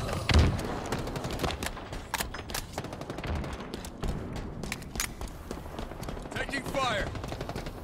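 Rapid gunfire bursts and single shots in the Halo Infinite capture-the-flag game, crackling close and loud in repeated volleys with booming impacts, over a steady din of battle.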